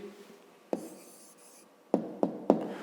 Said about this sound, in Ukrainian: Ну, а тепер записуємо тоді відповідь